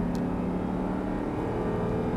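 An Audi R8 engine roars steadily at high revs while accelerating, a close, continuous mechanical drone with no voices.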